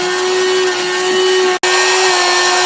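A CNC machine drills holes in a printed circuit board, giving a loud, steady, high-pitched whine with a constant tone that cuts out for a split second before resuming.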